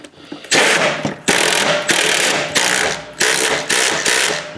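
A ratchet snugs a bolt on a Cub Cadet LTX 1050 mower spindle, producing about six loud, close bursts of rapid clicking, each stroke separated by a brief pause.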